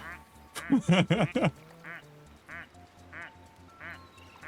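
A duck-quack chat alert on a livestream sounds a rapid burst of four or five loud quacks, followed by fainter scattered quacks at a steady pace over quiet background.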